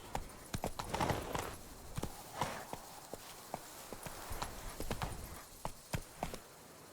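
Roach, the horse in the video game Witcher 3, clip-clops along with a steady run of sharp hoofbeats on hard ground, close and fairly even, with a soft rumble underneath and no voices.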